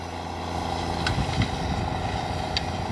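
Ford TW25 tractor with a straight pipe, ploughing with a four-furrow Kverneland plough: a deep, steady diesel rumble holds throughout at close range, with a few faint clanks over it.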